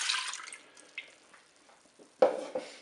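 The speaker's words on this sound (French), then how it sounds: "On va commencer par mettre le lait de soja dans la cuve." Soy milk poured into the pot of a Cookeo multicooker, a brief splashing liquid pour at the start, then scattered drips and a second short splash near the end, close and quiet with no talking.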